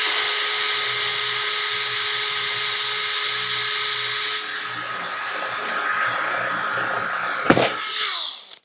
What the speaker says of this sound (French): Sans trop de difficulté, on va voir ce que ça donne avec un deuxième perçage